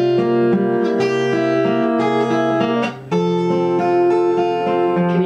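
An acoustic guitar plays a continuous strummed and picked passage with ringing chords, a brief dip in volume midway, then carries on at full strength.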